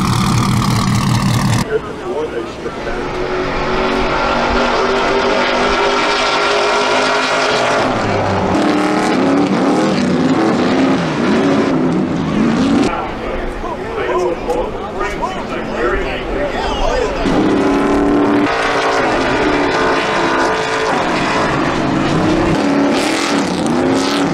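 Racing truck engine during a race, a loud sustained roar with shifting revs and pitch changes throughout, overlaid by voices talking.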